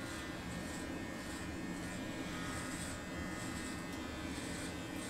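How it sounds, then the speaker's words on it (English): Manscaped Lawn Mower 4.0 electric body trimmer running continuously, a faint, steady close buzz lasting several seconds with slight fluctuations and no talking. "It's definitely a very comfortable shaver"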